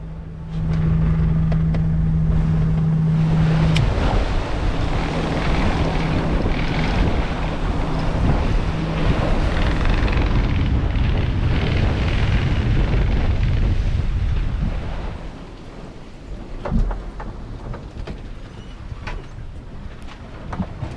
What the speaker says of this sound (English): So it was just to pull out the sails again and get going along the next 180 nautical miles or 32 hours of sailing